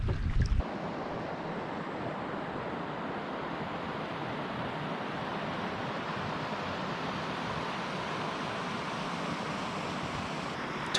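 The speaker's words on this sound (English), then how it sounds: "The river was just fast and moving along and running a couple little swifts here and there." A fast-flowing river on a solo canoe trip down Utah's Dirty Devil River gives a steady, loud rushing wash with some wind noise, and a brief thump near the start.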